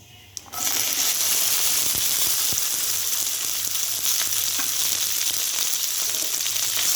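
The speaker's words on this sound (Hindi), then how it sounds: "जीरा हमारा अच्छे से लाल हो गया है। अब इसके अंदर डालेंगे हम भिंडी।" Okra drops into a hot pan of reddened cumin seeds in oil, and a quiet pan bursts into a loud, steady sizzle with small crackles and pops that continues throughout.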